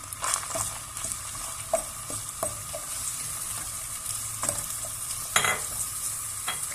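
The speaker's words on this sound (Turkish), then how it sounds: "Soğanlarım solana kadar Soğanları karıştırıp pişireceğim." Onions are stirred and cooked in a pot for a vegetable soup, giving a continuous soft sizzle with scattered scraping and clinking of the spoon against the pot.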